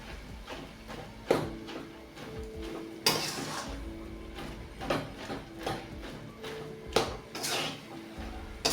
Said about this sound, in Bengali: একটু চামচে থেঁতো করে দেব